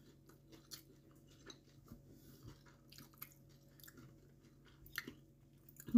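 Someone eating pla som, fermented fish, by hand: faint, close chewing with small wet crunches and clicks in an uneven rhythm, and no talk.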